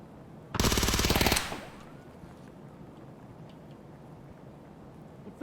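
A Vector submachine gun fires one rapid, dense burst of under a second in a hardcore raid shooter game set in a mall, loud and close, then fades into a quiet ambient hush with no voices.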